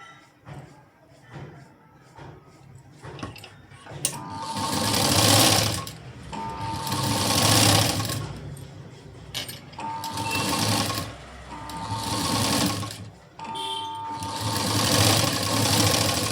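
A sewing machine stitches a blouse seam in repeated bursts of steady whirring, each lasting a couple of seconds with short pauses between, close and loud while someone talks faintly.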